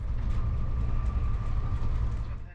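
A Danish international train runs steadily along the rails, giving a continuous low rumbling roar with a faint constant whine above it, heard from inside the carriage.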